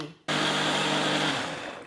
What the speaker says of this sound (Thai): แล้วเราก็ปิดฝาปั่นได้เลยค่ะ โปรแกรมเดิมนะคะ 25 วินาที